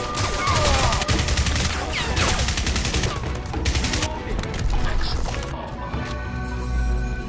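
Dense automatic gunfire in a PC video game, rapid bursts and overlapping shots with crashes and impacts, loud and continuous, thinning out toward the end.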